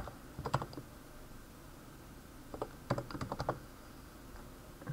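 Someone types on a computer keyboard in a quiet room, with a short burst of keystrokes early on and a denser run of clacks near the end, separated by a pause.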